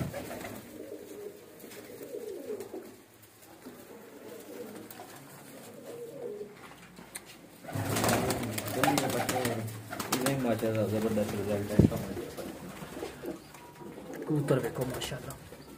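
Breeder pigeons cooing in a loft, soft repeated coos close by, joined midway by fluttering and shuffling, with someone talking over them throughout.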